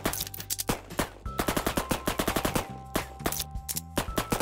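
Rapid automatic gunfire in a shooting video game about turning into weapons, loud bursts of closely spaced shots with brief pauses, running continuously.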